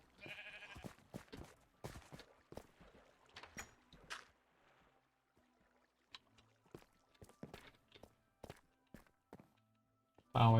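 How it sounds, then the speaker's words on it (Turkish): Minecraft sheep bleat in short calls amid sparse blocky footsteps during a game of hide-and-seek, quiet and intermittent, with gaps of near silence between bursts. "Burada koyun var."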